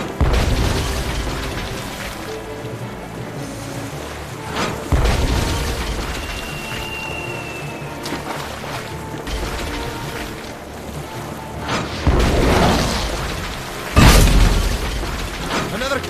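In the video game Tales of Monkey Island, cannons fire and explode in several heavy booms spaced across the scene, with deep thuds and bursts over a continuous mechanical and ambient game background.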